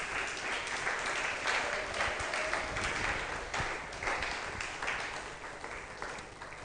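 A church congregation applauds during a worship service, a dense, sustained wash of many hands clapping at once, moderately distant and filling the room, with faint voices and cheers mixed underneath.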